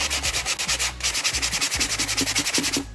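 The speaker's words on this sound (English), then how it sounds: "I feel like I'm doing that when I'm sanding" Steady, rhythmic scraping of sandpaper rubbed back and forth on wood, fast regular strokes, close and continuous with no talking.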